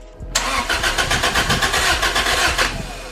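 A Toyota MR2 engine fitted with a Garrett turbo cranks and catches, then runs with a rough, pulsing rhythm close by, loud and without any voices.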